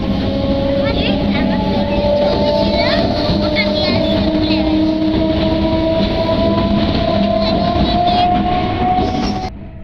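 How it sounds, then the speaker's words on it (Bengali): A Naihati local train pulls into Sodepur station, a loud, continuous rumble with rail clatter and a sustained tonal whine, plus squealing brakes and a voice speaking over it. "ইতিমধ্যে সোদপুর স্টেশনে গাড়ি ঢুকে গেছে, নৈহাটি লোকাল"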